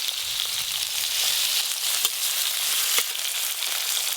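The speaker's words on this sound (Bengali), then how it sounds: "মশলা মাখানো চিংড়ি মাছগুলো একদম হালকা করে ভেজে নেব" Spiced prawns frying lightly in hot oil in a rustic village kitchen, giving a steady close hiss and crackle with a few sharper pops throughout.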